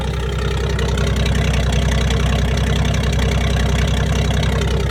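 Close to the exhaust pipe, a 1978 Toyota Land Cruiser FJ40 idles after a cold start, a loud, steady, chugging beat with rapid even pulses that never changes pace.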